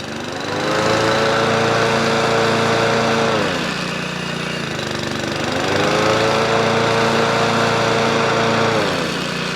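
A small engine on winterized outdoor power equipment runs steadily with its rotor clutch engaged, a loud close droning hum that surges and dips twice.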